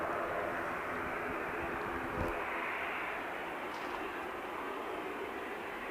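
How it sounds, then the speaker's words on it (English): An Iberia Express airliner taxiing on the far side of the airfield at Manchester Airport gives a steady, distant jet-engine roar that holds evenly throughout, with no talk over it. "Iberia Express, just on the other side of the airfield at the moment, taxiing down."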